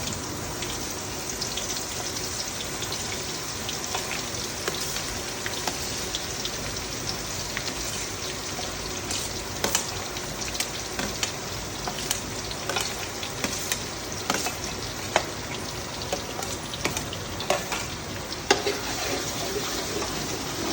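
Chopped onion and asafoetida hit hot oil in a tadka for khichdi, producing a long, even, close sizzle like steady rain, dotted with small pops and stirring taps throughout.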